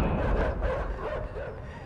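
Dogs in the video game Inside bark and yip in a short, rough burst, close and fairly loud over a noisy rumbling background.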